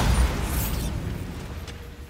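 A Confringo blasting spell goes off in the Hogwarts Legacy video game: a loud, broadband boom right at the start that settles into a rumbling, crackling decay over about two seconds.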